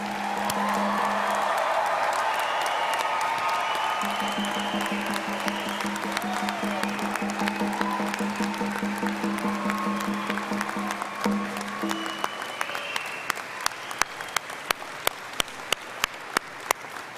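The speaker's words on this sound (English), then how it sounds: "please join me in applauding the June 2022 graduates." Sustained applause from a large audience at an SFU university convocation ceremony for June 2022 graduates, steady dense clapping filling the hall for about twelve seconds, then thinning into scattered individual claps near the end.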